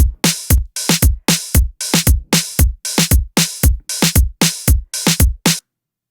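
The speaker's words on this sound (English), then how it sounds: "quarter notes are the closed hi-hats and the open hi-hats in between" A steady soca drum machine groove alternates short, crisp closed hi-hat ticks with longer open hi-hat hisses, paired with low kick thumps in an even, repeating rhythm.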